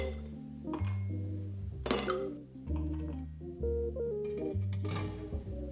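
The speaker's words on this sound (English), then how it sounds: "Add more ice." Ice cubes clinking and rattling into a beer cocktail glass after sweet vermouth is stirred in, with several bright glassy clinks and knocks spread across a few seconds, close and clear.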